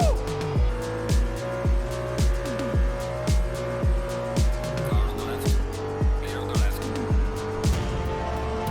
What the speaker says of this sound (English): Yes, this is Assetto Corsa Competizione